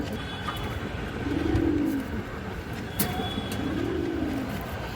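Pigeons, including a breeder hen of good bloodline offered for sale, coo in two soft rolling bursts, one early and one later, over a steady background hum with faint distant chirps.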